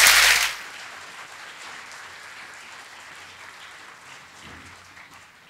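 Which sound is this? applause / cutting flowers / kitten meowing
applause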